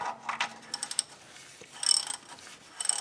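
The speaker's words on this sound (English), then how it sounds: "15 millimeters, socket, and let's see how tight it is" A 15 mm socket on a ratchet working loose the oil drain plug of a 2005 Chevy Colorado truck: quick bursts of close metallic clicking, faint and intermittent, with short pauses between strokes.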